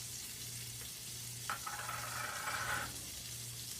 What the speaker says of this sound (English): Drop that in the pan. We're going to let that get all melted down.